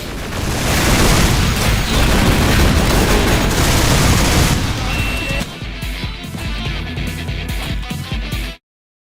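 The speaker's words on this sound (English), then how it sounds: "The audio is clogged with screams and gunfire and guitars" Loud, chaotic gunfire and blasts in Duke Nukem: Alien Armageddon pile up in a dense, continuous barrage with screams and guitars, then the din cuts off abruptly near the end.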